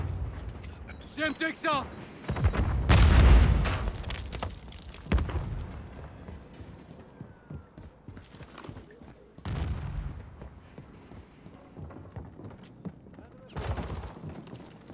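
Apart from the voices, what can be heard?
stun grenade going off in Modern Warfare III video game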